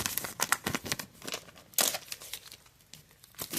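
A 1982 Donruss baseball card rack pack has its wrapper torn open, with close, loud crinkling and ripping of the packaging in irregular bursts, one sharp tear standing out midway.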